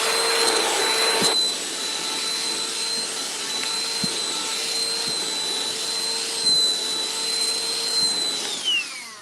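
A vacuum cleaner sucks dander off a plush cuddle-critter toy, giving a loud, steady, close-up roar with a high whine that runs unbroken the whole time, with only faint bumps as the nozzle moves.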